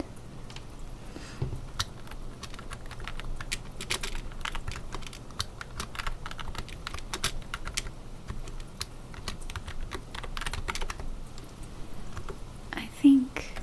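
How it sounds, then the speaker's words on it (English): Soft, steady typing on a computer keyboard in a quiet room, a continuous patter of keystrokes with occasional whispered speech and one louder clack near the end. "I like the way most of my keyboard sounds"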